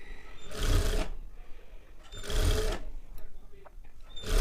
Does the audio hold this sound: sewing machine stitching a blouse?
yes